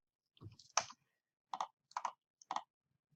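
Computer mouse clicks, a series of quiet, crisp clicks in small groups separated by short pauses, close and isolated with no talk.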